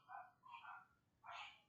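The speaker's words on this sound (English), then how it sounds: "if you hear yapping and barking in the background" Neighbor's dogs yap and bark in the background, three short faint barks in quick succession at a distance.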